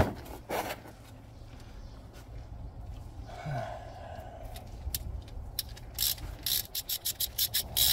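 Ratchet working on a bolt during radiator and water pump removal on a Mercedes CLK W208: a soft rub and clunk early, then a rapid run of close, loud ratcheting clicks toward the end.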